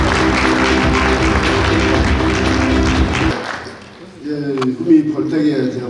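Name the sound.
audience applause at forum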